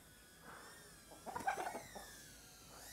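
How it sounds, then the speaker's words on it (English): Chickens cluck in a short faint burst as a small FPV drone hums above them, the drone's whine steady in the background and the flock's clucking rising briefly in the middle. "the chicken have to go many ways, so I will make them go home with the drone"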